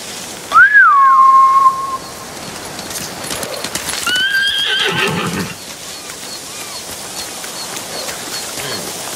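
In the video game Ghost of Tsushima, a horse whinnies loudly near the start, followed by a rumble of galloping hooves and scattered whistles against a steady outdoor background.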